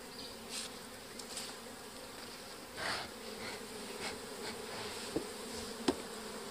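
Honeybees buzz around an open beehive box in a continuous close hum of many insects, with occasional louder passes and a few clicks or knocks, with no voices present.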